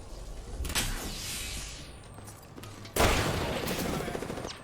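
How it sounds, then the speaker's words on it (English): Gunfire in Apex Legends, a burst of rapid shots early on followed by a louder volley near the end, with game effects in between. "Shooting."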